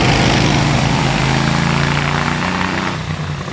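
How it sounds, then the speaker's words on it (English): A vintage chain-drive sports car climbs the Prescott hill, its engine droning loudly with a rising pitch and a whirring chain, the sound continuous and strong before easing slightly at the end. "Endless chains whirring around, trying to connect everything together."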